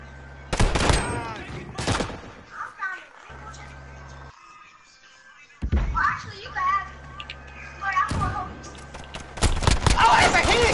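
Shotgun blasts in a video game come as several sharp, loud bangs spaced unevenly, with a denser burst of firing near the end, while excited young voices talk and shout throughout.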